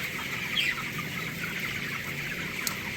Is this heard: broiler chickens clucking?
yes